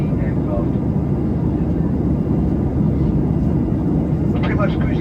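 Steady, loud broadband roar inside the cabin of a Jet2 Boeing 737-300 cruising at 34,000 feet over central France, a constant engine and airflow drone with a voice murmuring faintly beneath it.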